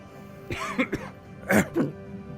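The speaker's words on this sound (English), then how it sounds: "Got a bit of a cough today, too." A person coughs twice, close by, with each cough a short rough burst and a brief quiet gap between them.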